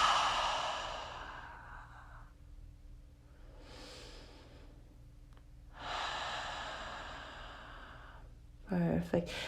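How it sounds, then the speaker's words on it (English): During a prenatal yoga sequence, slow, soft breaths are drawn in through the nose and let out through the mouth: a few quiet, airy inhales and exhales in an even rhythm, close and gentle. "inhale through your nose and exhale through your mouth"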